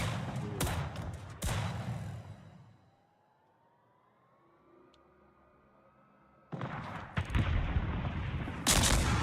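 Naval gunfire from a cruiser hidden in a smoke screen in World of Warships: heavy booming salvos at the start, a quiet lull with a rising whine, then more loud rapid blasts near the end.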